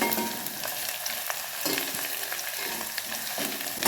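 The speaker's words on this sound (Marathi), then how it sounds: "लसूण आणि मिरची आपली भाजली आहे." Garlic and green chillies frying in a pan for a fenugreek besan dish, a loud, dense, continuous sizzle with faint stirring scrapes throughout, close and without talk.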